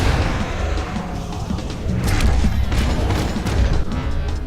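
Time Bomb explosion in the Overload space-shooter game: a loud, dense burst of booming, crackling blast noise with rumbling low end and scattered sharp impacts, sustained for several seconds.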